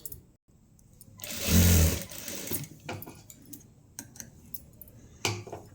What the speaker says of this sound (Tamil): இந்த பக்கம் நல்லா ஃபினிஷிங் பண்ணிவிட்டு அதுக்கப்புறம் தையல் போடணும்